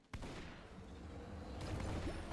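Gunfire in the mobile shooter Pixel Gun 3D breaks out as a sudden burst and continues as dense, rapid shots that swell louder toward the end.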